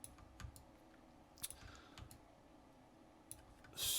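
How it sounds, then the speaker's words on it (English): Computer keyboard keys pressed while working in Maya 3D modeling software, a few faint, sparse clicks at irregular intervals in a quiet room, ending with a slightly louder burst. "Hit 1 on my keyboard."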